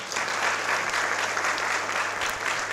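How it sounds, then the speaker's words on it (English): Dense, even applause fills a room at the Africa Prosperity Dialogues 2025 breakfast meeting, a steady wash of many hands clapping throughout without a break. "So can we clap again?"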